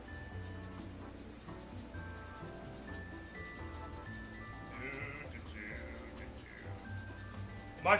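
Whole nutmeg being ground fresh in a home kitchen, a faint, steady rubbing and scraping that continues throughout at low level, with a brief louder knock at the very end.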